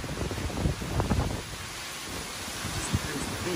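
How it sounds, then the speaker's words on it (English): Strong wind roars and buffets the microphone in gusts, surging loud early on before easing to a steady rushing noise. "Just those big gusts that come and go."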